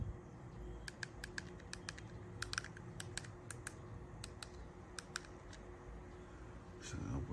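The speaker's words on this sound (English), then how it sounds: "You can see the keyboard there." Rapid clicking of typing on the small keyboard on the back of an air mouse remote, a quiet, irregular run of crisp key taps close by with a soft hiss underneath.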